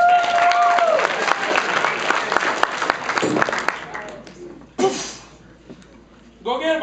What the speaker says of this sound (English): So let's clap it up.